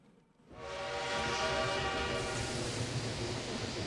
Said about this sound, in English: The train pulls into the station with a long whistle.